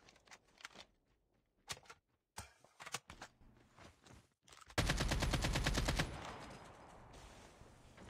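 Automatic gunfire in the Escape from Tarkov game on the Customs map: scattered single shots and short bursts, then a loud, sustained rapid-fire burst of a couple of seconds that trails into a ringing, echoing decay.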